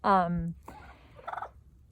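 A turkey's loud, quick gobble up close, followed by a softer trailing gobble from another bird.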